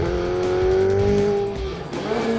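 A Ferrari 488 GTB in manual mode accelerates hard, its loud, close engine roar rising in pitch, then dropping at a sharp gear change before climbing again.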